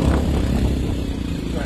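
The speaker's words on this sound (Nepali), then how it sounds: "बाइक आउँदैछ" A motorbike approaches on a road on the way to a Nepali tourism festival, its engine a close, continuous low rumble that holds steady through the short stretch.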